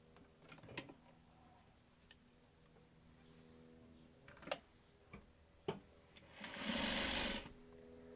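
A sewing machine stitches in short, quiet bursts with sharp ticking clicks between them, then runs in one longer, louder whirring burst near the end.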